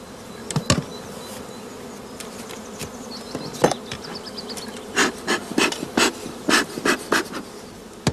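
Honeybees buzz around apiary hives in a sheltered spot during a spring inspection. A steady low hum is broken by louder buzzing passes of single bees flying close by, which come more often in the second half.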